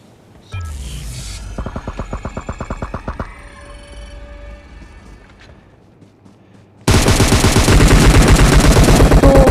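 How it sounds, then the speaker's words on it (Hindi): Gunfire from the mobile game PUBG Mobile: a rapid automatic burst of shots, then quieter single reports, then a loud dense stretch of sustained firing and impacts, all close and without talk. "उसी समय यहाँ पे फायरिंग होने लगे"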